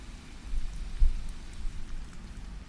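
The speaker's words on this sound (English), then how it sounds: "the rain against the window" Steady rain pattering against a window, soft and even, with a low rumble and a faint hiss underneath.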